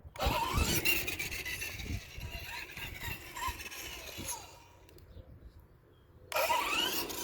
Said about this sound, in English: That light squealing you hear before when it launches, that's the tire, the wheel actually slipping